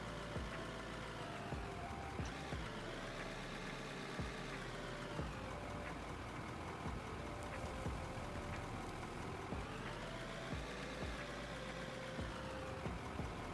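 A video game dump truck's engine idles with a steady rumble, low and even, with slight rises and dips in pitch and no voices over it.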